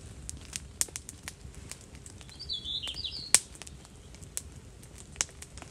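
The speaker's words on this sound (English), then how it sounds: "A couple of birds out." A couple of birds take off from wet rainy woodland near a campfire, with quick fluttering wingbeats and a few sharp snaps over a steady patter of rain.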